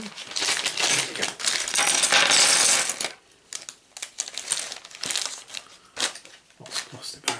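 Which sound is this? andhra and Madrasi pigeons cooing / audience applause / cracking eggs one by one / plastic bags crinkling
plastic bags crinkling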